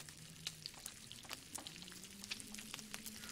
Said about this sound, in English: Right, let's get one of these venisons cooked.